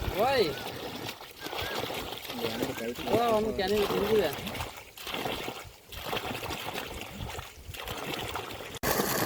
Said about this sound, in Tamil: தண்ணியோட ப்ரெஷர் பார்த்தீங்கன்னா நல்லாவே அந்த மூணு அடி குறையாம ஊற்றுது